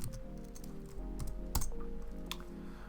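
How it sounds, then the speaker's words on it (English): Rapid typing on a computer keyboard, a steady patter of close, crisp key clicks with a few sharper taps, over a low constant hum and no talking. "if you just go to Google and type in Handbrake"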